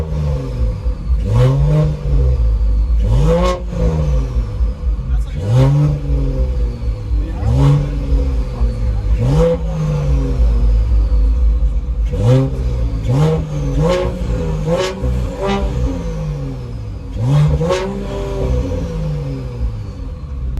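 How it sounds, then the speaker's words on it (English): Repeated revs from a Mercedes E53 Coupe in Sport Plus mode, about ten sharp rises and falls of the engine with loud exhaust crackle, heard close and alone over a low idle rumble. "now I'm in Sport Plus and I'm gonna be giving it a few revs"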